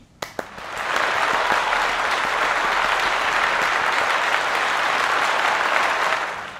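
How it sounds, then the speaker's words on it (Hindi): Hand clapping that starts after a couple of sharp isolated claps and swells into a full, dense round of applause, loud and sustained before tapering at the end. "मैंने शुरू करते ही तालियां बजा दी"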